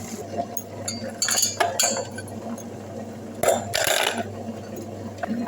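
A metal ladle held in hand knocks against ice cubes in scattered sharp clinks and cracks, with two louder bursts of hard tapping, close up over a low hum.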